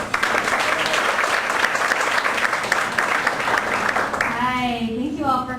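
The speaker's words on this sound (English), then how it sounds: "Let's give this panel a big round of applause, folks." An audience applauds a panel at a Chevy SXSW Roadtrip panel discussion with steady, dense clapping, and a speaker's voice begins near the end as the applause fades.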